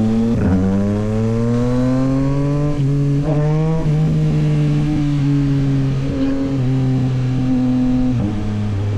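A 2024 Yamaha MT-09 SP motorcycle engine pulls hard and loud up through the gears, with steady rising engine tones broken by short dips at each shift, close and continuous with no talking.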